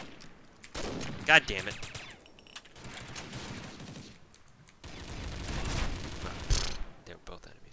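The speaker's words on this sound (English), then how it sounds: "I'm not sure if you can really shoot through the window at that particular angle, but I'm going to try." Gunfire in the Combat Arms shooter game: sharp bursts of rapid shots and short fusillades, loud and close, separated by pauses, while someone talks.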